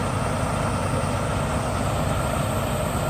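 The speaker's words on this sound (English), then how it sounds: "The engine probably just died or something. It's still making noise." Low, continuous rumble and drone of a huge truck's engine left running while stuck in a city intersection, a dense steady roar with no breaks, heard fairly loud and close without speech.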